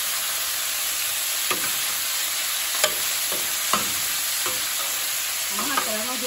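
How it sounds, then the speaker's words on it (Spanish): Pork ribs browning in a hot pan give a steady, loud sizzle and frying hiss throughout, with a few soft scrapes and taps of stirring close by. "Yo ya pienso dorar la carne para después ponerle el recado"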